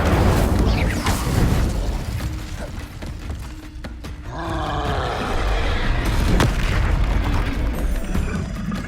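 Repeated fire spells cast in the Hogwarts Legacy video game roar and boom amid clattering, mechanical combat effects, loud and continuous throughout.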